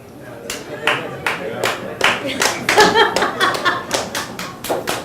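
A comedy club audience claps in scattered, uneven bursts, some single sharp claps and short flurries, with a little laughter mixed in.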